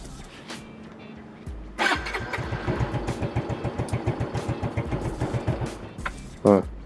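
A modified Yamaha Mio M3 scooter engine with a racing camshaft sputters to life, chugs briefly at a rapid idle, then stalls abruptly, followed by a short burst of talking.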